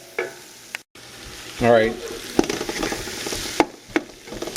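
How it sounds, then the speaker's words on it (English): Vegetables for turkey bone gumbo sizzle and fry in a pot as a spoon stirs and scrapes them, with a few close clanks, and someone speaks briefly over the cooking. "I've been stirring it."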